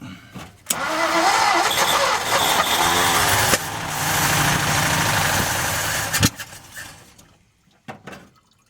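A 1955 Ford F250 engine with a troublesome carburetor cranks and catches, running loud and rough for several seconds before cutting out, followed by a few faint clanks.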